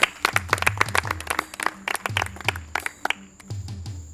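An audience at a Miss OD'AS pageant applauds a jury member with loud, uneven bursts of clapping that pause and resume, while low tonal music or noise thumps beneath.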